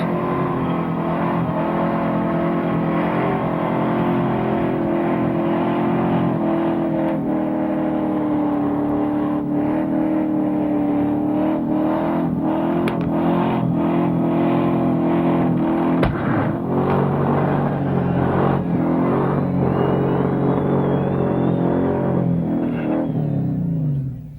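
A tough Ford XB at Summernats revs hard and holds a loud, droning engine note close by for a long stretch, with brief throttle changes and a sharp crackle midway.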